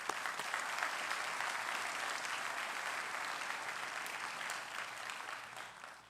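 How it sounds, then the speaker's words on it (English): Audience at a county sheriff's awards ceremony applauding the winners, a steady, fairly quiet wall of many hands clapping throughout with no break. "One more round of applause for all our winners."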